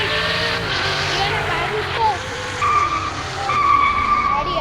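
A super fast car in the Roblox video game skids with a screeching tire squeal that rises in brief bursts over continuous game engine noise, with people talking throughout.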